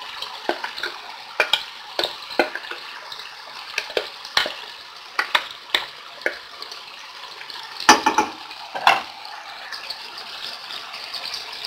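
Two large chopped red onions frying in a pot for a stewed kebab dish, giving a steady close hiss broken by sharp clicks and scrapes of stirring, with a few heavier clatters near the end.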